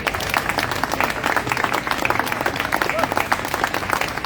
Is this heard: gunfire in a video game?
no